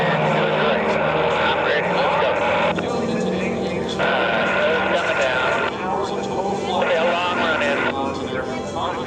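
An aerobatic propeller airplane from the Titan Aerobatic Team flies an offset loop at an air show, its engine drone loud and continuous, rising and falling in pitch, under a commentator's voice.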